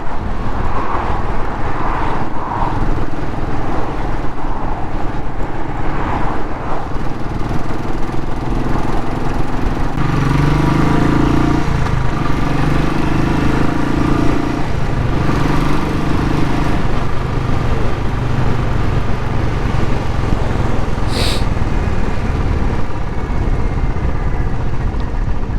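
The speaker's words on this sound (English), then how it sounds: "Chugging along." A Royal Enfield Classic 500 single-cylinder motorcycle runs on a winter ride, its engine chugging in a steady, loud, continuous drone with wind rush and no talking.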